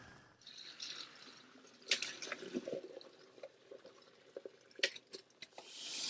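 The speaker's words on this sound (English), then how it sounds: "we want to thoroughly rinse the poke salad and just make sure that water runs freely over all the poke salad" Tap water running over poke salad greens in a sink during rinsing, a soft uneven trickle and splashing with scattered drips and spatters, fairly quiet and without speech.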